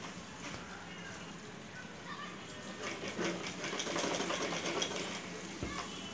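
A sewing machine runs continuously while stitching a handle onto a bag, a steady mechanical whir with a faint rattle, close and fairly quiet throughout.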